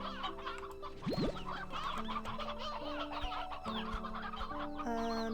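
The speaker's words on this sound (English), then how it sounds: "Grab a bunch more chickens." Chickens in the video game Slime Rancher 2 cluck continuously in overlapping, busy calls, with some short whooshing and swooping game effects layered in, and no voices.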